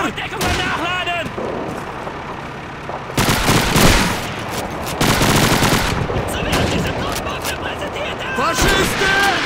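Gunfire in the Call of Duty 2 campaign: rapid machine-gun bursts and rifle shots in dense, loud volleys across the scene, with shouted voices between and under the shooting.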